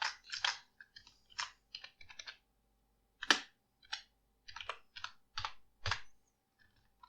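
Python code being typed on a computer keyboard, with irregular bursts of crisp close key clicks and short pauses between words, quiet background and no speech.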